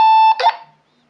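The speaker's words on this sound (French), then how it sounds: "le petit bip de fin de transmission" A T-388 PMR 446 walkie-talkie gives a single loud, steady electronic beep, then a short burst of squelch noise, followed by near silence and a faint click.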